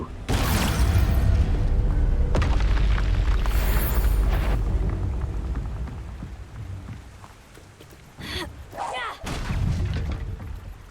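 Expulso explosion spell in Hogwarts Legacy, a loud blast with a long rumbling roar, followed by softer crackles and a second burst of debris-like noise later on.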